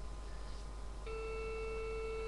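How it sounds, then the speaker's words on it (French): A telephone ringing on the line during a call: after a second of hissy line noise, a steady electronic ring tone starts and holds at a constant pitch until the end. "ça sonne. Oui. J'espère qu'il va répondre."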